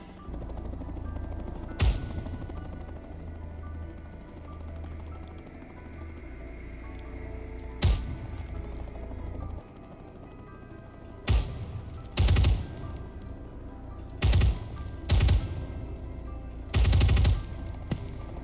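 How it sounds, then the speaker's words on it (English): A firefight in the video game Ground Branch, with sharp gunshots and short light-machine-gun bursts cracking out at irregular intervals over a low, steady background rumble, some single, some clustered in quick succession. "Did someone just fire back?"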